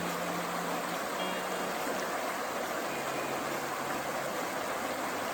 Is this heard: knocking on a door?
no